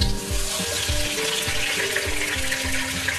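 Halved tomato dropped onto lightly browned onions in hot oil, giving a steady loud sizzle with soft stirring bumps throughout, no voices.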